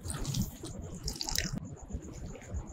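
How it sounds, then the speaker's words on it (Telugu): Water pours and splashes steadily into a bowl of mirchi bajji batter, a continuous close liquid rush with faint clinks. "నీళ్ళైతే యాడ్ చేసుకోవాలి"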